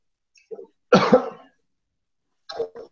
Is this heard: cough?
yes